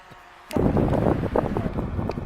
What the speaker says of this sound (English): Powerful wind